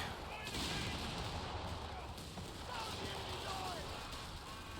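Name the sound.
rifle grenade explosion in video game Company of Heroes 3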